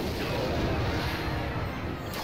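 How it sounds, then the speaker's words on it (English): A rocket spell in the mobile game Clash Royale slams into a tower, a loud sustained rumbling blast with a gritty, noisy tail and no voices. "Incoming rocket."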